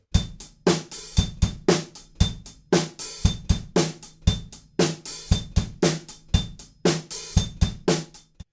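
The rock drum beat from a song, kick and snare driving along with a bright, ringing ping from the bell of the hi-hat on beats 1 and 3.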